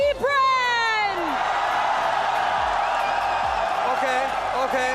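An esports audience at a Mobile Legends event cheers for Falcons AP BREN, a loud, sustained crowd roar with whoops, while an amplified voice with a reverberating echo rises over it near the start.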